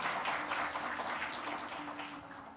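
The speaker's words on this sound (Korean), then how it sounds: "큰 박수로 환영해 주십시오" An audience at an international workshop on best available techniques applauds to welcome a guest, a dense, steady burst of clapping that continues throughout and gradually eases.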